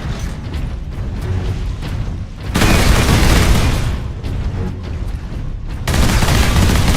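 Sentry guns in the Warhammer 40K Space Marine video game fire in loud, dense bursts, a sustained rattling barrage with heavy booming swells that surge and ease over several seconds.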